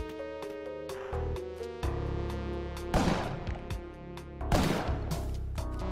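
Several punchy shotgun blasts from the video game Spelunky, spaced a second or two apart and punctuating a busy, tonal game soundtrack.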